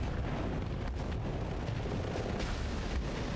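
Missile launches and explosions in the space combat game Starsector form a dense, continuous roar of booms and blasts, loud and close, with overlapping bursts throughout and no pause.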